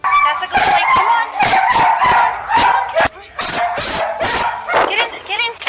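A dog barks and yips in a quick burst of sharp, loud, close barks with short whimpering pitches in between, while someone talks over it.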